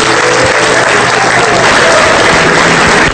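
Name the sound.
audience applause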